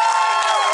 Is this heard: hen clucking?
no